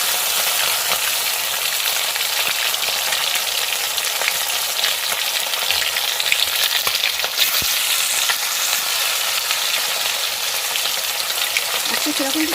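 Turmeric-coated, salted fish fries in hot oil with a loud, continuous crackling sizzle that stays steady throughout, with an occasional utensil tap.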